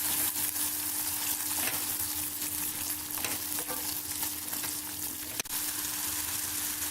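Spices are stirred into paneer and capsicum in a frying pan, with a steady sizzle under repeated scraping strokes of the spoon and a sharp clack partway through.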